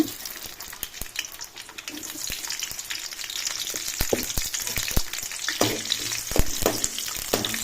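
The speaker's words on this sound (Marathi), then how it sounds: "बरें फ्राय करपाचे हरयो मिरसांग्यो" Green chillies fry in hot oil for a Goan vegetable dish, a crackling sizzle with sharp pops and spits throughout, close and steady.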